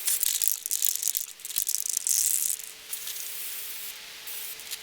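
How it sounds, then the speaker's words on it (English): Oil treatment spray hissing onto a KTM 530 motorcycle air filter in close bursts, with faint handling clicks between sprays. "I want to spray it down with some oil treatment spray"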